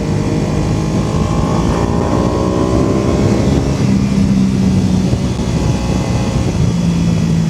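A classic motorcycle engine revs loudly and steadily while being ridden, its pitch rising and settling through gear changes, with a constant close-up drone throughout and no talking.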